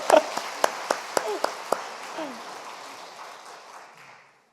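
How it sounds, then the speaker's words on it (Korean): A church audience at a sermon claps in a sparse, uneven burst of separate sharp hand claps that thins out and fades to silence within about four seconds, with no talking over it. "한번 이건 박수 주셔야 돼요"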